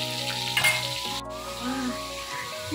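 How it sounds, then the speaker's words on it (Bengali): Fish fry lightly in hot oil in a pan, a steady close sizzle with crackling bursts and a sharper spatter partway through, no voices. "এরকম মাছগুলো ভাজছি, মাছগুলো একদম হালকা ভাজতে হবে"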